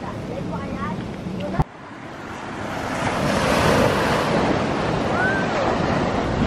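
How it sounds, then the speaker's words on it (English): Strong wind buffets the microphone over crashing surf at Crystal Bay on Nusa Penida, Bali, a loud continuous roar of waves and gusts that swells steadily, with a brief thump near the start. "Quite scary to fly around here because the wind is pretty strong."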